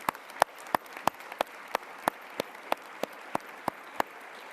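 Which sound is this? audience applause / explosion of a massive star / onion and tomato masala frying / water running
audience applause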